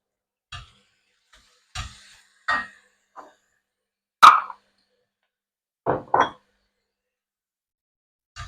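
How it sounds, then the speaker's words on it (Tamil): Masala-coated prawns go into a pan for a spicy crispy prawn fry, a handful of separate soft plops and light clinks spaced across a quiet background, close by and with no talk. "மசாலா எல்லாம் பிரட்டி வச்ச இந்த இறாலை இப்போ சேர்ப்போம்."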